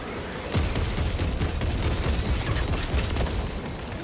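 Rapid gunfire in Warhammer 40K: Space Marine 2, a dense close burst of repeated shots and booms cracking in quick succession, loud and continuous across the moment with no talk.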